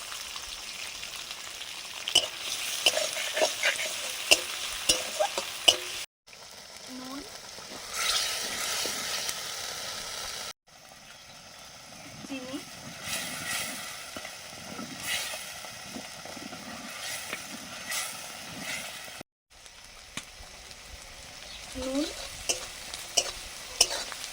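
Chopped onion and nigella seeds fry in a pan with a steady close sizzle, interrupted by short pauses and light stirring scrapes and clinks.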